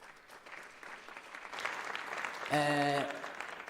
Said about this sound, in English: Can you please clap hands for that?